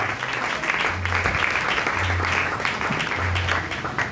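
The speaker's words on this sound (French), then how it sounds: "Est-ce que nous pouvons bien acclamer le Seigneur ce matin?" Church congregation at a Sunday morning service applauding and cheering the Lord, a steady wash of clapping throughout with low hum bursts underneath.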